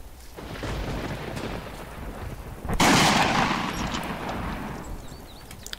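Gunfire rolls through a World War II battle in the shooter game Iron Front, a steady distant rumble of shots with one loud, close burst about halfway through.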